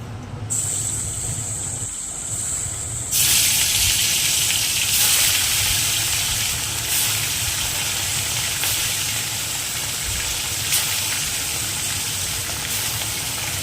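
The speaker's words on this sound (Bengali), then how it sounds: "এইভাবে করে আমি সবগুলো মাছ ভেজে নেব।" Puti fish frying in hot oil in a wok, a steady broadband hiss and sizzle that swells louder after a few seconds and continues without letup, close and alone.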